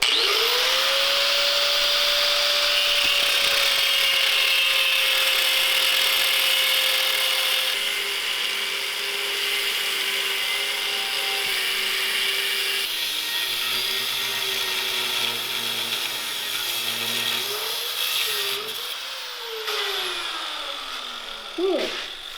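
A loud, steady power tool whine runs continuously, cutting metal on a turbo diesel buggy chassis with a high screeching tone that dips and shifts near the end, with brief voices.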